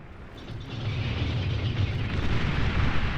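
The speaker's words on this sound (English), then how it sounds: "Bombing the front line." Bombing run explosions in the strategy game Beyond All Reason, a dense, continuous low rumble of blasts building steadily in loudness over a few seconds, with no talk.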